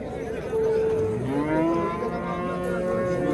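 Five-month-old bull calves mooing at the Nurobod livestock market, several drawn-out, rising and falling moos, one overlapping another, close by over a murmur of crowd noise.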